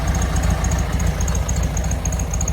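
A 1957 Porsche 356 Speedster replica with 356-style carburetors idles steadily, a close, even low-pitched thrum with a regular pulsing beat and no voices.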